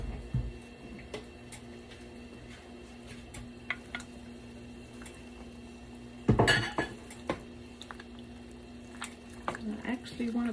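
Cooked potatoes added to a pot of Mexican albondigas soup, heard as clinking spoon and pot knocks with a louder splashing clatter midway, while someone talks.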